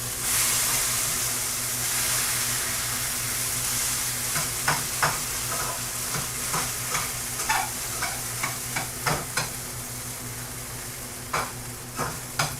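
A vegan patty and tortillas sizzle in a skillet with a steady frying hiss, punctuated by repeated soft clicks and scrapes of stirring or handling toward the end.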